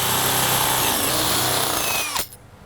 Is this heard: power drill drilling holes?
yes